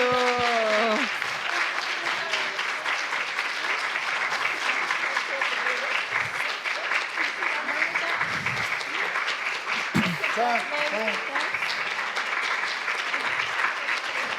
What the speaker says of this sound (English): And first the presents and then applause.